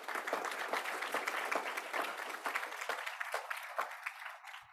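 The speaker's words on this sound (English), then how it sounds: "a round of applause for Bruno" Applause from a conference audience for a panel presenter, a dense patter of many hands clapping that thins toward the end, with scattered individual claps fading out and no talking over it.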